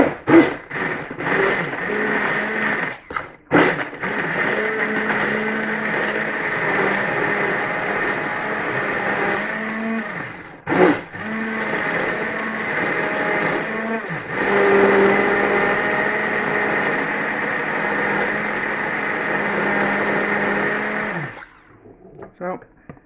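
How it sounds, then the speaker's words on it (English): A hand blender whirs through dehydrated potatoes in a kitchen, a loud steady motor drone with brief stops and restarts and a pitch that shifts as the mash thickens, finally switching off. "Let's put the hand blender on first."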